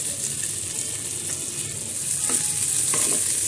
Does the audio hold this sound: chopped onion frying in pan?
yes